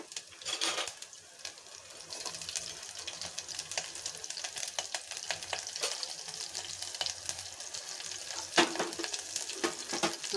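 Garlic and green chillies fry in hot oil on a low flame for a kadhi tempering. The crackling sizzle is close and continuous, with a few sharper pops and spatters scattered through it.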